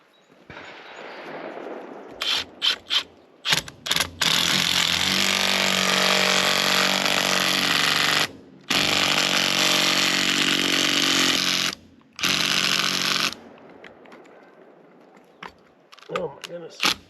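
A powered torque tool drives a ground anchor into rocky soil at a homestead, a loud, close, grinding mechanical roar in long sustained bursts broken by brief pauses, with a voice speaking around the start and end.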